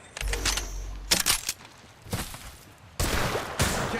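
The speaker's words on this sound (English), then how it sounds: "Getting shot at." Sharp bursts of gunfire in the Apex Legends battle royale, several separate clattering volleys with brief gaps between them, close and fairly loud.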